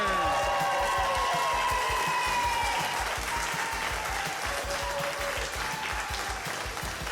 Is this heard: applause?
yes